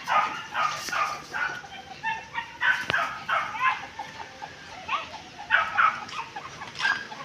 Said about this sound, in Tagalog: Ingay ang aso doon sa taas.